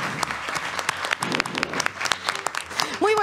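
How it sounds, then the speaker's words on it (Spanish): Audience clapping at a school quiz show on stage as a guest is called up: scattered, uneven hand claps from a modest crowd, with a voice breaking in briefly at the end. "Un fortísimo aplauso para ella."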